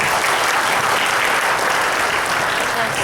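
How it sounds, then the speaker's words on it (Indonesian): An audience at a corporate goal-setting closing event claps loudly and steadily, a dense continuous burst of applause with no voices over it. "Sekali lagi boleh kita beri tepuk tangan yang meriah untuk Pak Kanto."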